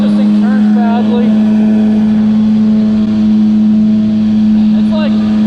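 A GP701 vehicle accelerates off the line, a steady loud engine drone with a strong low hum running throughout, joined by brief rising whine sweeps near the start and end.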